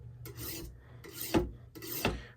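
Knife blade rasped across a sharpener in three quick sawing strokes, each a close, dry scraping grind with short pauses between, no voices.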